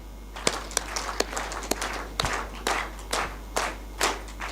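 An audience at an Eastern and Southern African grain trade policy dialogue claps together in sharp, evenly spaced beats, about nine distinct claps over several seconds, fairly close, with no talking.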